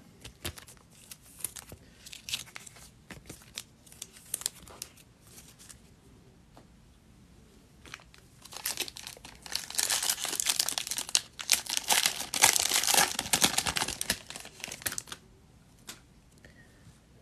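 Trading card packs are torn open and handled, giving soft crinkling foil and shuffling card sounds in scattered bursts, building to a denser stretch of rustling near the middle, fairly close and quiet.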